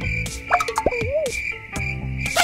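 Bubba Bubbaphant's voice from the horror video game Poppy Playtime, Smiling Critters: a brief character vocalization with sharp accents and a rising-falling sung pitch, set over a constant high tone and game background noise.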